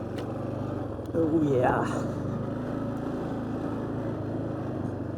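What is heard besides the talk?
old four-wheeler ATV engine running in gear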